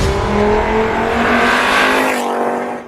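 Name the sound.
Volkswagen Golf VR5 five-cylinder engine revving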